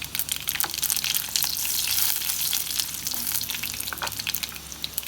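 Red chilies hitting hot oil in a South Indian kitchen making sambar, a loud crackling sizzle with bursts of sharp spitting pops that keep going throughout.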